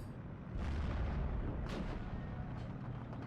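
Explosion from a Ju-87 dive bomber's 500 kg bomb in the Steel Division 2 wartime strategy game, a loud sustained booming blast with crackling bursts that rumbles on without voices.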